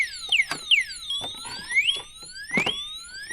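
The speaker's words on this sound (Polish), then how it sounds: "każde ruszenie roweru, widzicie, uaktywnia alarm i miganie" An electronic anti-theft alarm on a DYU A5 folding electric bike wails with rising and falling sweeps, repeating loudly and close with clicks and knocks between.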